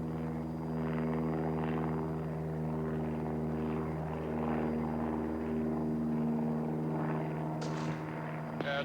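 A helicopter used to dart a running grizzly bear drones steadily overhead, a low rhythmic engine hum with blade chop, continuous and fairly near, with a couple of faint clicks near the end.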